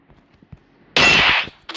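A single gunshot from a gun in the shooting game Free Fire, a loud sharp blast lasting about half a second with a ringing tail, followed by a shorter metallic clang.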